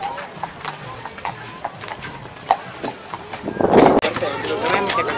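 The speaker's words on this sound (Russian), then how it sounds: "Вот, снимаю лошадку." Horse hooves clip-clop during pony rides for children on a hot summer Children's Day outing, a steady rhythm of light hoofbeats under voices and crowd chatter, with a louder burst of noise near the end.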